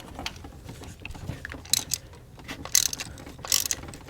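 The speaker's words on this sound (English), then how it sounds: "To get these plugs out, you're going to use a 5/8 inch spark plug socket." A ratchet with a 5/8 inch spark plug socket loosens a spark plug on a GM Ecotec 1.4L turbo engine, clicking in quiet close-up bursts of rapid pawl clicks with a few sharper accents.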